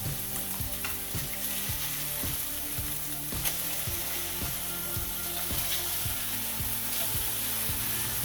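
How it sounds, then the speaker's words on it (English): Beef patties sizzle and crackle steadily in a hot frying pan, a continuous frying hiss with a rhythmic clicking pattern underneath, no voices. "After 3 minutes, flip the patties over."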